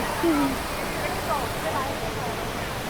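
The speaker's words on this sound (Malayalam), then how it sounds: "ഈ വാട്ടർ ഫൗണ്ടൈൻ കണ്ടോ?" Water pours down an indoor waterfall fountain in Singapore airport, giving an unbroken, fairly loud roar of splashing water, with faint voices over it.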